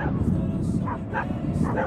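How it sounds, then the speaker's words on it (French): Several dogs bark and yip in short bursts at a middle distance, roughly four barks spread unevenly across the moment, over a low outdoor rumble. "Alors les chiens"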